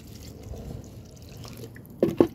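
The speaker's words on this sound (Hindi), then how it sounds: "पानी डाला और देखिए नीचे से कितने अच्छे से पानी निकल रहा है" Water drains from the holes in the bottom of a plant pot filled with kitchen-waste compost for sowing fenugreek: faint background, then two soft, close drips near the end.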